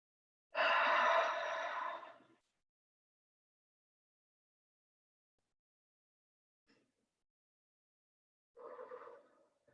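A long, loud exhale during a guided breathing exercise, followed by silence and then a softer second breath near the end, close to the mic with no talk.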